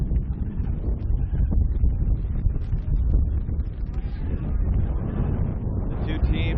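Strong gusting wind at an outdoor ultimate frisbee match in Dubai, a dense low roar of wind buffeting the microphone throughout with no clear pause.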